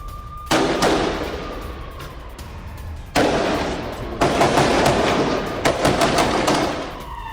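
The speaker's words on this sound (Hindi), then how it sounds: "हमास लड़ाके इजरायली सेना पर कर रहे हैं हमला।" Heavy gunfire in a ground battle between Hamas fighters and Israeli forces, with sharp shots and bursts crackling loudly and repeatedly, several louder blasts breaking in near the start, middle and later, no voices.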